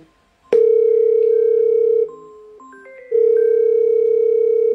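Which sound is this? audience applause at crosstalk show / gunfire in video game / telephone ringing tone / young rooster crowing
telephone ringing tone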